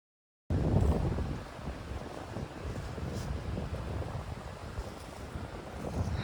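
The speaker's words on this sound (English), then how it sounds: "I hate wind." Wind gusts buffet a microphone on the Appalachian Trail, a steady, rough, low roar that swells and eases after a sudden start, with no other sounds standing out.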